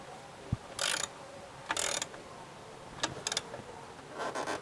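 A ratchet tightens a spark plug into an aluminium cylinder head on a Mitsubishi 3000GT, short bursts of quick clicking pawl sounds repeated several times, fairly faint.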